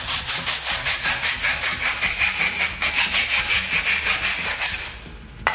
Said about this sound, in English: I can just shave this stuff down with a hacksaw